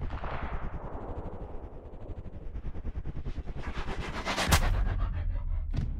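A single loud, sharp sniper rifle shot in the video game Sniper Ghost Warrior Contracts cracks out late, preceded by a steady rumbling, crackling game ambience with no talking.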